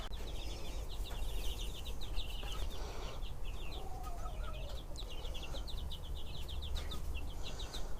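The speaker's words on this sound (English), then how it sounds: "those little chickens, those little chicks, they're scratching through it the entire time" Two-week-old chicks in a coop with deep litter bedding make dense, continuous high peeping and soft clucking, with scratching rustle underneath; many birds, close and steady throughout.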